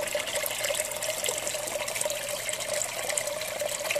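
Water drains from a siphon jar back into a fish tank on a hillside farm, a steady close trickling and splashing flow that runs on without a break.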